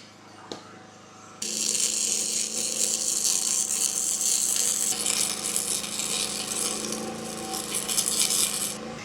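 Welding a new jack onto a dump trailer with an ArcCaptain MIG 200, a loud steady crackling hiss starts after a short quiet moment and buzzes on continuously, up close with no speech.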